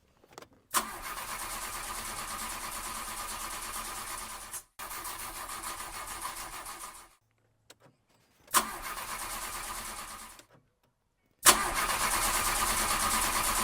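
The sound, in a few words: car engine cranking but failing to start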